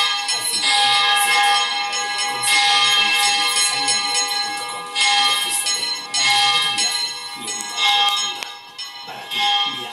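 Church bells swing and peal in full, a loud, clangorous ringing with overlapping strokes that swell and fade in waves throughout.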